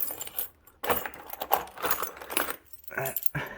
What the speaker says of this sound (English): a whole keyring of skeleton keys.